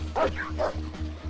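A dog gives two quick, close barks, bright and yappy, followed by a short whimpering tail over a low steady hum.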